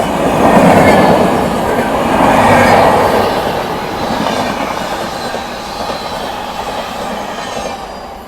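An Odisha Sampark Kranti Express passenger train, running from Bhubaneswar to Anand Vihar Terminal, rolls past with a steady rumble and rhythmic clatter of wagons on the rails, loud and close throughout, with no talking.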